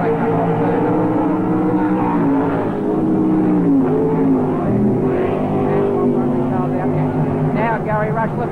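Stock cars racing into a turn at a 1984 Rockhampton speedway event, engines droning steadily at a distance beneath continuous race commentary.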